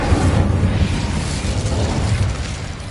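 A fiery Incendio spell from the Hogwarts Legacy game erupts in a loud, continuous roaring burst of flame and rumble that holds steady for the full three seconds, with no voices over it.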